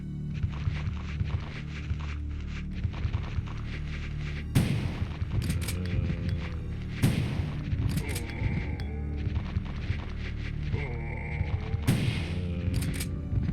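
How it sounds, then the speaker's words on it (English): Loud shotgun blasts ring out against zombies in the PS1 video game Resident Evil 2, four heavy booming shots spaced a few seconds apart over game sounds, with groans and footsteps between them and no talk. "you can get 3 headshots at the same time with a shotgun"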